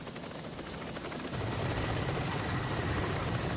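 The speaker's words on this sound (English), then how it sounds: "The greatest need was for more helicopters, and the Americans quickly provided them." A helicopter's rotor and engine roar steadily, growing louder and heavier partway through, a constant droning wash of noise.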